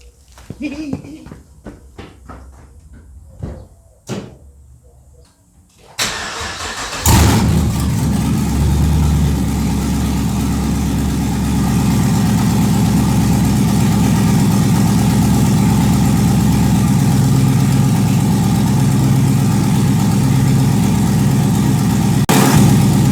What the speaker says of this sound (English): start the car and probably scare everybody in 2 square miles